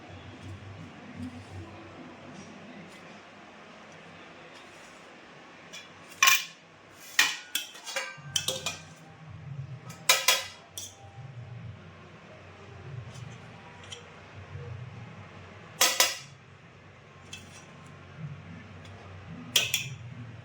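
Plates and metal cutlery clink and clatter in sharp, scattered bursts while rice is served at home, fairly close and moderately loud over a low background hum.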